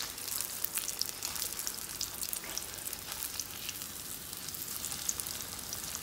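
Baldchin grouper frying in a pan, a steady close crackling sizzle with fine popping spatters that holds even and unbroken throughout, with no voices.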